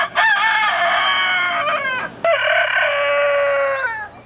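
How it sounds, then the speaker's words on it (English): Two roosters at Farm Sanctuary in Watkins Glen, New York crow loudly and close by, one long harmonic crow followed by a second after a brief break, with no talking. "like these two roosters I met at Farm Sanctuary in Watkins"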